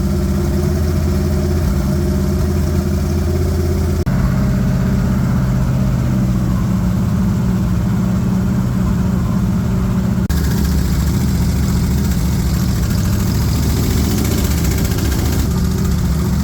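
A Bombardier machine's engine runs with its carburetor removed, giving a loud, rough, steady idle that stays constant for the whole stretch, with a slight shift in tone partway through and no talking.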